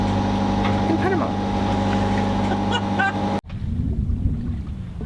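A sailboat motor sailing off Panama, with a steady engine drone and hum that cuts off abruptly partway through, leaving wind and water rush.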